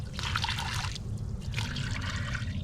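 Hot water trickles and splashes steadily as it drains from a home water heater tank during maintenance, a close, continuous pour with shifting bursts of splashing.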